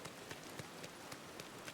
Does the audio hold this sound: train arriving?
no